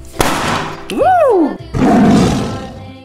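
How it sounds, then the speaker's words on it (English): A tiger's roar, a big rumbling burst, follows a short sharp hit and a brief gliding voiced tone in a children's learning song. "Tiger."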